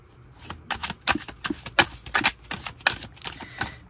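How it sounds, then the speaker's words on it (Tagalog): A deck of playing cards being shuffled at close range, a quick run of crisp riffling bursts with short pauses between them, lasting several seconds with no talking. "Ito po ay ating balasahin muna"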